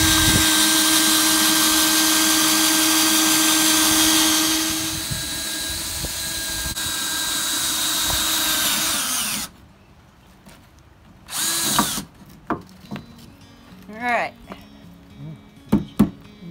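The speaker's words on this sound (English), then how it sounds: "now I'm gonna drill a hole 45 degree angle to meet this hole that I just drilled" A power drill boring a hole into wood at a 45-degree angle for a carpenter bee trap, whining loud and steady up close for several seconds, then stopping, followed by scattered handling clatter.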